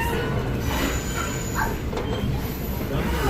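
A Western Maryland Scenic Railroad train rumbles steadily along the tracks between Cumberland and Frostburg, heard onboard, with a constant roar and faint high squeals from the wheels.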